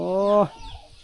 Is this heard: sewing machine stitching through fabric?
no